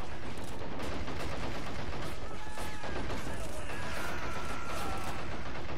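Rapid gunfire crackles continuously in the Men of War Assault Squad 2 war game, dense and busy bursts that fill the whole stretch.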